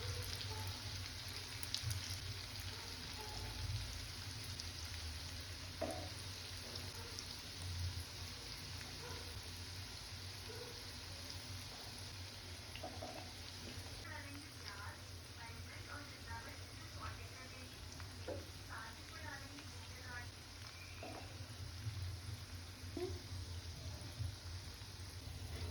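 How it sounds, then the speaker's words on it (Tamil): Manchurian balls deep frying in oil, a continuous low hiss and bubbling sizzle running evenly throughout, with scattered faint pops and a voice talking softly over it. "நம்ம உருட்டி வச்சுருந்த எல்லா மஞ்சூரியன் பால்ஸையும் பொரித்து சைடில் எடுத்து"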